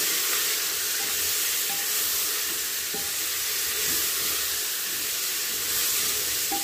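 Garlic with seasoning sizzles and crackles steadily in a hot pan while being stirred, a dense continuous frying hiss with faint scraping touches and a few small pops, close and even throughout.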